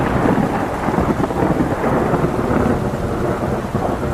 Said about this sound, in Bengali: ওরে বাবা, আকাশে কেমন বজ্রপাত হচ্ছে